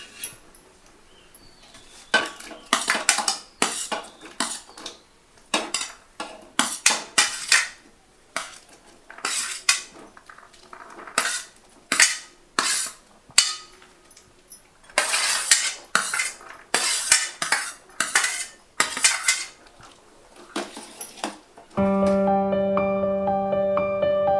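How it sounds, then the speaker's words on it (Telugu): A spoon clinks and scrapes against a bowl as cut fruits are mixed together for fruit salad, a steady run of close, bright metallic taps and knocks, with no talking. "ఇవన్నీ దీంట్లో వేసి కలుపుకుందాం"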